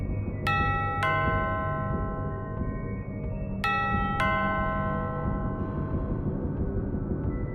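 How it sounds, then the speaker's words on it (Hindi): Two-tone chime rings twice, each pair of bright notes decaying slowly over a low steady hum. "साथ ही कानों में डोरबेल की आवाज़"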